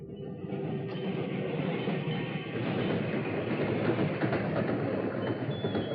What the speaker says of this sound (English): 15 minutes later, the slow freight for Junction City stopped just short of it.